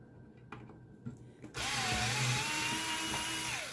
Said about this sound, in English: So we're going to go ahead and take the screws out.